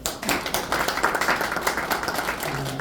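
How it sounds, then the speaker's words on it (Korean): Audience members at a museum forum clap, a lively patter of individual claps that is close and moderately loud, with a faint low tone creeping in near the end. "박수 한번 쳐주세요"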